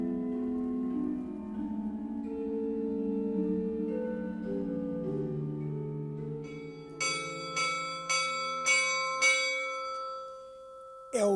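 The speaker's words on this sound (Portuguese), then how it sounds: "É o sino da misericórdia que está a tocar a rebate." The Misericórdia church bell in Pedrógão Grande rings the alarm: after a sustained resonant hum, five loud metallic strikes come at roughly one-second intervals, each leaving a long ringing decay.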